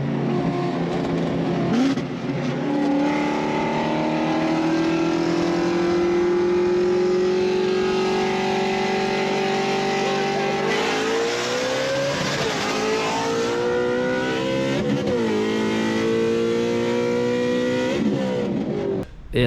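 A drag race car screams as it accelerates hard with a rising, sustained roar. After a missed shift the engine lets go, the note breaking up into rough, faltering revving before it fades near the end.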